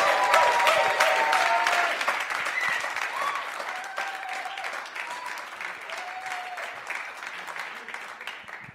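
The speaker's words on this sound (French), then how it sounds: "Je sais pas si on peut applaudir encore." Audience applause at a press conference for a Vendée Globe sailor is a sustained round of many hands clapping indoors, loud at first and gradually thinning out.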